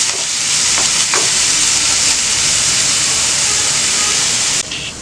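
Mutton cutlet mixture with coriander and mint sautéing in a pan, a loud, continuous hissing sizzle that stays even throughout and eases slightly at the very end.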